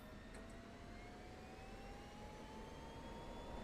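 A jet engine throttling up in a flight simulator game, a faint, steady turbine roar with a high whine that climbs slowly in pitch as the power builds, heard alone without talk.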